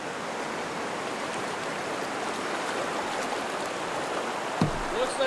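A waterfall on a northern river roars as a steady broadband rush from start to finish, close and constant, with a brief thump near the end.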